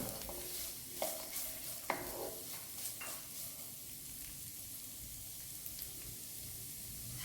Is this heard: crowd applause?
no